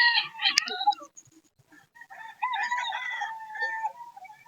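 Chickens and a rooster at a poultry market in Bocaue, Bulacan, with a loud crow and clucking up close, then a longer stretch of mixed crowing and fowl calls.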